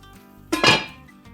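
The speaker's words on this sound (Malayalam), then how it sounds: "ഞാൻ ചട്ടിയിലിട്ട് തട്ടിക്കൊടുത്തേ." Pan holding tomatoes and shallots under a lid, shaken once on the stove; a short, close metallic rattle and clatter of pot and cover lasting about half a second in an otherwise quiet kitchen.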